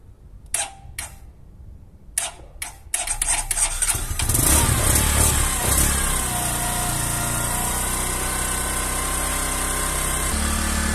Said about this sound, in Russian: Видите, он завелся со стартера